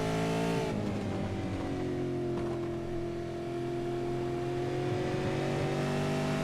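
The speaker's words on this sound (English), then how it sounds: "there's that big train of cars going all the way from Daniel Johnston down to Carl Rankin" Race cars of the SCNZ Autumn Series at Allport stream past in a close train, multiple engines droning and revving together at steady, loud volume with shifting pitch as they run nose to tail.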